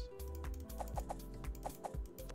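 A cartoon chicken clucking in the travel game Jet Set Go, a series of short quick clucks in a loose rhythm over a steady background tone, close and fairly quiet with no talking.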